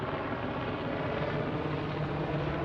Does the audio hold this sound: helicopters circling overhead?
yes